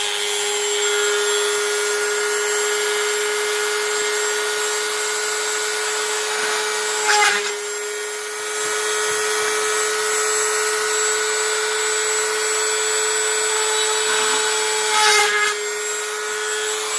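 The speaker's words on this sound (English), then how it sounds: "I'll use my mini drill just to put a pilot hole in for the" A mini drill runs with a steady high whine, boring pilot holes in thin plastic, with two brief louder bursts as the bit bites through.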